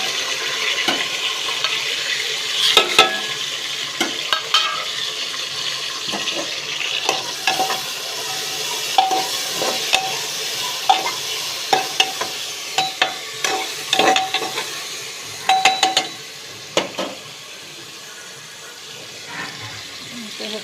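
Onions and tomatoes fry in a pan for chicken biryani, a soft continuous sizzle under frequent sharp clicks and scrapes of a spoon stirring, with some quieter handling noises.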